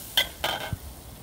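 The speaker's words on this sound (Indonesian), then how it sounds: "Ini kita tumis sampai matang" Kwetiaw rice noodles and chicken being stir-fried in a pan, a few sharp clinks of a utensil against the metal followed by a soft low knock, close and brief with no voices.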